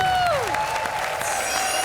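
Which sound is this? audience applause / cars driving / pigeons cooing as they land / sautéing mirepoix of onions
audience applause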